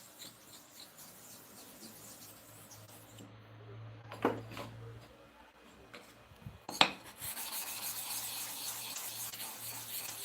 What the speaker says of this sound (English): Let's repeat the sharpening again.